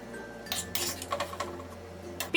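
Homemade pizza sauce is scraped from a pan into a bowl, with a few close metallic scrapes and light clinks of a spoon against cookware over a quiet background, no voices.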